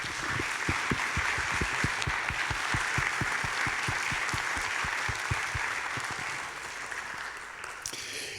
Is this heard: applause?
yes